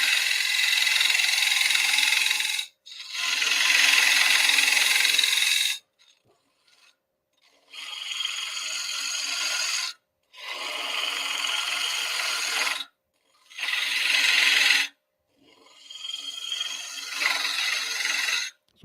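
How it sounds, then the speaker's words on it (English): A cutter hollowing a non-round piece of sumac wood on a lathe makes loud, close scraping and rasping passes lasting a few seconds each, broken by short near-silent pauses, with no talk. "I'm just kind of guiding on the bottom and pulling sideways, and then scraping up the side."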